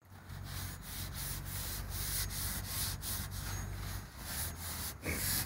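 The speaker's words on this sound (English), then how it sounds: "We're going to take a little Scotch-Brite pad." Scotch-Brite pad scrubbing a rear brake rotor on a Chevy/GMC Silverado dually truck, a steady close rasping rub with rhythmic back-and-forth strokes running continuously, no talk.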